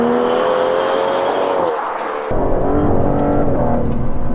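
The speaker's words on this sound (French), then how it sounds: "c'est la première accélération que je fais avec cette voiture" A 725 hp Aston Martin DBS Superleggera accelerates hard from inside the cabin with a loud, rising engine roar. A gear change interrupts it before the engine note climbs again.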